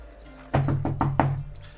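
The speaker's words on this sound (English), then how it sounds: "I will knock" Five firm knocks on a wooden door, evenly spaced in a quick run, close and clear against a quiet hallway background.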